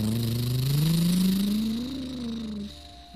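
A monster truck engine revs at full throttle while climbing a giant muddy hill, its pitch rising steadily and loudly for nearly three seconds before it drops away and fades.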